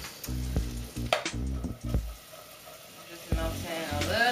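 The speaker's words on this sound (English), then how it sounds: "Just melting a little bit of butter." Butter melting in a pan hisses and sizzles in bursts, heard alongside a person talking with low, voiced speech between the crackling surges.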